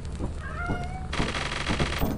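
Cats meowing in the video game Lethal Company, a few drawn-out, rising mews close up over a steady background hum, followed by a denser burst of game noise.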